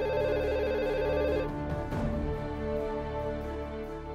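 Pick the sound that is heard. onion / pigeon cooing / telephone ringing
telephone ringing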